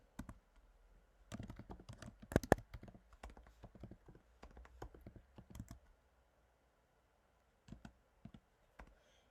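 Someone types on a computer keyboard in quick irregular bursts of clicking keys, pauses, and then taps a few isolated keys later on. The room is otherwise quiet.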